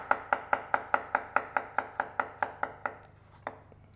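A kitchen knife slices through garlic cloves on a cutting board, about fifteen crisp, evenly paced chops close up, ending with a pause and one last cut.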